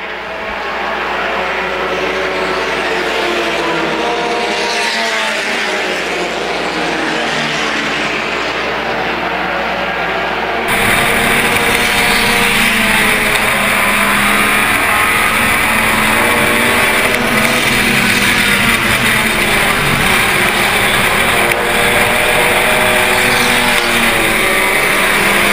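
Front-wheel-drive compact race cars lapping Winchester Speedway, a steady loud engine roar that sharpens abruptly partway through as cars run close together, continuous with no talk.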